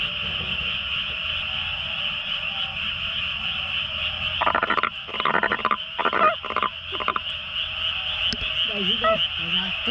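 Frogs croak at night in Korea: a steady high-pitched chorus runs throughout, joined midway by a series of loud, close, rhythmic croaking bursts, with a faint voice near the end.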